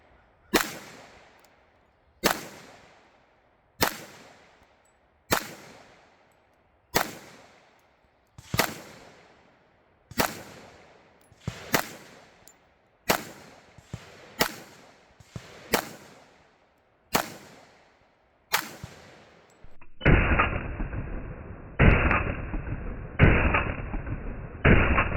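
A Rock Island Tac Ultra .45 pistol fired at an outdoor range: a dozen loud, sharp shots spaced a second or two apart, followed by several seconds of rough, heavy rushing noise.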